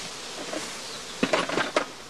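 Evicted honeybees hum around a straw skep hive in a low, steady drone, broken late by a few sharper clustered knocks and rustles near the hive; no one speaks.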